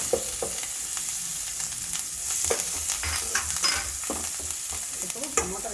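Ginger-garlic paste and turmeric sizzling in oil while being stirred, a close steady fry with intermittent scraping stirs and small pops throughout.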